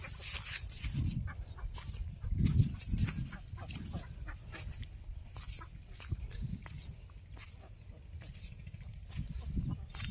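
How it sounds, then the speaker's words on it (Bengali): Domestic ducks and other fowl chatter and quack over a low outdoor rumble, with calls coming in scattered bursts at moderate distance. "দেশি হাঁস দেখেন কতটা সুন্দর"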